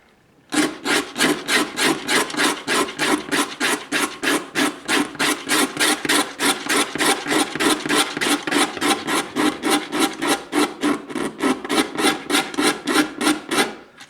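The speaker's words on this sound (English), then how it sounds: "I'm also going to bevel this edge very slightly when I'm sanding it" Rhythmic back-and-forth sanding on a wooden edge to bevel it for a parlor guitar build: about forty even, close strokes in a steady loud rasping pattern, with no talking.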